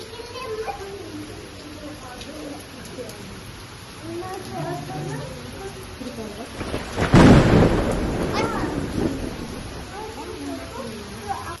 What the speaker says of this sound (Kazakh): Паркке келеміз деп жаңбыр жауып кетті ма?